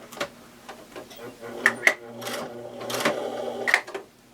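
A sewing machine stitches through tough material in short, uneven bursts of rapid mechanical clatter, with brief pauses and a few sharp clicks between runs, close and fairly loud.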